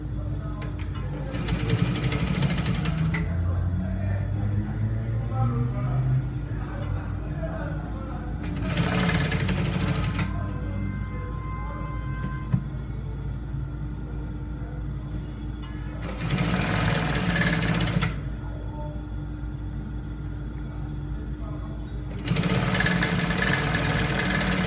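A sewing machine stitches trouser fabric in four separate bursts of fast, buzzing mechanical chatter, each a few seconds long, with quieter handling sounds and a background hum in the gaps between.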